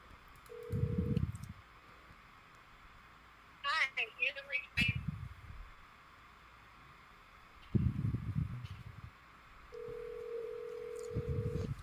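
Telephone dialing from a comedy call-in show: a burst of quick touch-tone beeps comes in the middle, between short steady tones, with muffled talk-like thuds around them.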